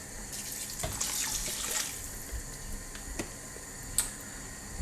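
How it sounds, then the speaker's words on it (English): Stock poured into a pan of cottage pie mince, a continuous close watery pouring sound with a few small clinks and taps over it. "Now add the rest of the stock."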